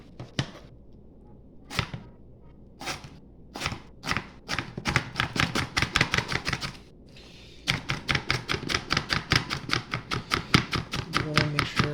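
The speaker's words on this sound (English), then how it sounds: "For now, we'll just chop up the onions." A knife chops onions on a cutting board, finely mincing them for burgers: sharp, close taps in uneven bursts that build into a fast, steady rapid chopping rhythm, with a short pause midway.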